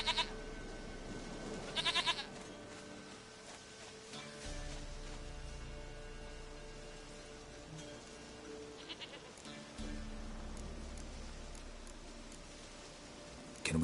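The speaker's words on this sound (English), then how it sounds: "Goat of mine, dearest, sweetest goat." A goat bleats in The Witcher 3, with a couple of short, nasal cries standing out over a steady low game ambience and soft background music.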